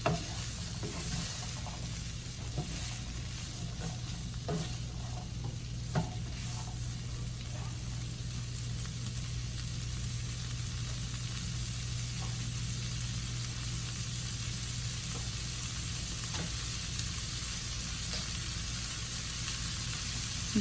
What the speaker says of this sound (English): You're going to add the salt, stir it again, for a minute.